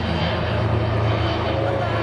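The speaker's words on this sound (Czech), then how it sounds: "tady pojíždí letadlo." A fixed-wing airplane taxis at an air show, its engine giving a steady, droning hum with a low tonal whine that stays close and even for the whole stretch.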